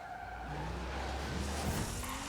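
A car in the racing game Forza Horizon 5, in Eliminator mode, brakes hard and skids, with a steady engine drone and a rising tire squeal throughout a short, loud stretch.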